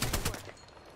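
Gunfire in the Apex Legends battle royale game: a few rapid shots burst at the start, then decay into a fading tail of lower-level noise.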